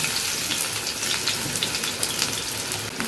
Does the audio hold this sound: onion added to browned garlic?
yes